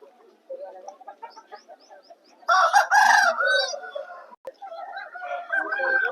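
At a Vijayawada rooster market, a rooster lets out a loud crow after a run of softer clucks and calls, with further bird calls after it and background market noise.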